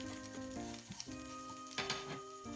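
Garlic and ginger fry in a little oil in a frying pan, a close, continuous sizzle with a few brief stirring scrapes.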